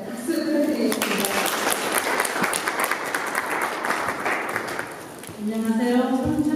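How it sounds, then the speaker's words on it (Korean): Sustained applause from a ceremony audience at a volunteer day event in Korea, broad even clapping for about five seconds, with a voice speaking before and after it. "박수 부탁드리겠습니다"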